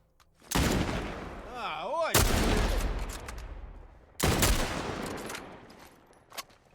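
Sniper gunfire in The Last of Us gameplay: three loud, sharp shots with long ringing tails, one early, one near the middle and one later, plus a short whooshing sweep in between.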